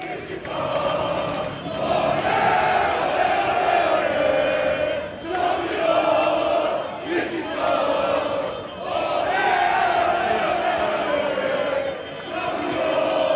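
A large crowd of Beşiktaş fans celebrates a championship outdoors, a dense, continuous roar with rhythmic chanting swelling and dipping in waves for the whole stretch.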